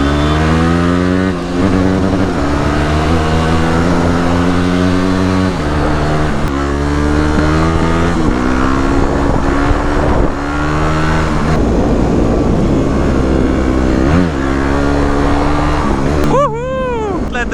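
A Yamaha WR250X supermoto motorcycle revs hard on a rainy, hard-packed gravel trail. The engine note is loud and close, climbing and dropping continuously throughout, with a sharper rev surge near the end.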